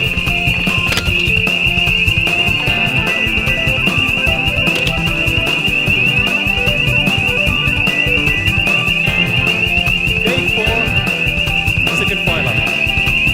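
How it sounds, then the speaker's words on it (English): A hotel fire alarm rings continuously and loudly as a steady high-pitched electronic tone, unbroken for the full stretch, with faint rattling noise beneath. "Second fire alarm."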